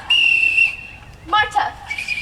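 A whistle signal blown to call children in a stage production of The Sound of Music, one long steady tone followed by several shorter, rising and falling blasts, loud and close with no talk.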